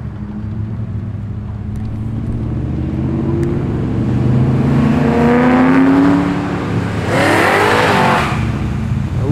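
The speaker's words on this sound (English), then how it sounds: "Mustang fastback" Street muscle cars including a Mustang fastback revving as they leave a car show in Sydney, rumbling engines building from a low idle into loud throttle blips and passing roars, with a crowd murmuring in the background.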